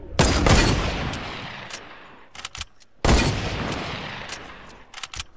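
Gunfire in the Fortnite battle royale video game: two loud, dense bursts of rapid shots, each fading into scattered single cracks and brief pops.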